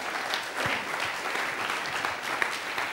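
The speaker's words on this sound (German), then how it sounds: "Dann ein Applaus bitte nochmal für die junge Dame." Steady applause from a science slam audience fills the room, continuous clapping at an even level for a few seconds with no clear voices on top.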